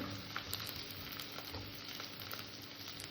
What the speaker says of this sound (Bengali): আদা রসুন বাটাটাকে আমি একটু কষে নেব যাতে কাঁচা গন্ধটা না থাকে